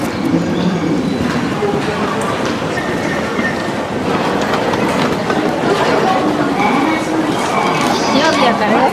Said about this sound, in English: We're on our way in a train towards Nara.